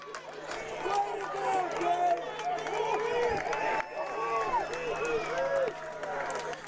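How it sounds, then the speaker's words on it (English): Football crowd on the Iowa Western Reivers side cheering ecstatically at a junior college game against the Tritons, a loud sustained roar with whistles and yells, steady throughout. "As you can hear the crowd on the Reavers side, ecstatic from that one."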